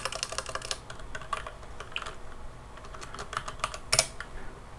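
A password being typed on a computer keyboard, a quick close run of soft key clicks with uneven rhythm and a louder tap near the end, no voices.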